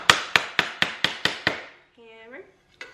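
Seven sharp, evenly spaced hammer blows ring out close by, followed by a brief voiced sound and one last lighter tap.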